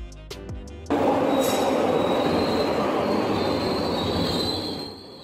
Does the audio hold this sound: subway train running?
yes